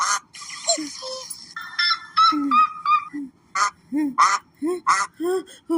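Duck-like quacking comes in a rapid run of short, nasal, honking calls, loud and close, clustered at first and then spaced into separate bursts with brief gaps.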